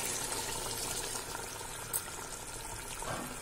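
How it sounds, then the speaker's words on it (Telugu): Water pours and gurgles into a cooking pot of mutton tahari, a soft continuous watery rush fairly close and quiet, with no one speaking. "నీళ్ళు వేసుకోవాలి."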